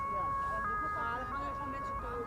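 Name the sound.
ambulance siren passing near Amsterdam Schiphol Airport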